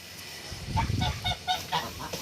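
A series of nasal goose honks, four or five in an uneven rhythm, moderately distant over a low rumbling background.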